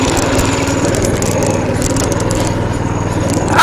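The small engine of a homemade go-kart runs steadily close by at a high, buzzy idle, loud and continuous, with a faint rattle over it and no talking.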